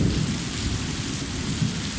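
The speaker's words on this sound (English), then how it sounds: "It's some of the loudest thunder I've ever heard in my life," Heavy rain pours steadily in Kuala Lumpur, a dense unbroken roar with deep low thunder rumbling underneath throughout, loud and close, with no voices.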